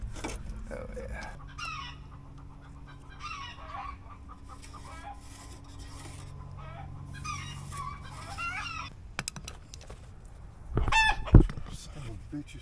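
A rooster clucks and crows in a workshop where a Jeep Cherokee is being repaired, its calls rising in repeated bursts over several seconds beside a man's speech, followed by clatter and a loud thump.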